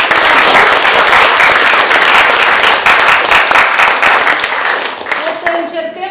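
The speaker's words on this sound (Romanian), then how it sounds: "O să-l aplaudați pe el." A large school audience claps loudly and steadily for a student presenter at a school theatre festival, a dense continuous wash of applause that thins out toward the end.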